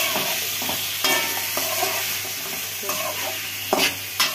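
Raw papaya, carrot and green chillies stir-fried in hot oil, a steady close sizzle broken by several sharp scraping clatters of the spatula against the pan, no voices.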